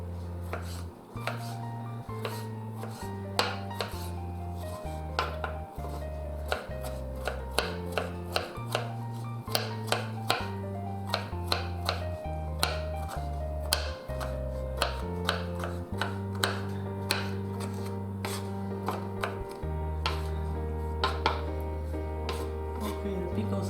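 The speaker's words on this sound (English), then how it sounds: "Okay, the pickles are chopped" A knife chops pickles on a cutting board for egg salad, giving steady, close, sharp knocks that repeat quickly over a sustained melodic background music track.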